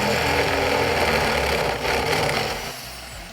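A 24mm drill bit bores a hole in the panel of a Jamo D7 subwoofer, giving a steady, loud mechanical grinding and whirring with gear-like ratcheting that fades toward the end.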